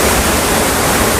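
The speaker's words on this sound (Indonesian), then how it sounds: "di bawah juga kita bisa lihat ada aliran air terjun dari mata air ya, meskipun kecil" Small spring-fed waterfall at Curug Paniis Sumur in Pandeglang, a steady broadband rush of falling water that fills the whole moment evenly and close by, with no voices.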